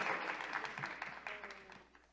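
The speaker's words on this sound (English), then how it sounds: "Let's give them a round of applause, please." Audience applause at a biodiversity finance panel event, a dense steady patter of many hands clapping that slowly fades over about two seconds, with faint voices underneath.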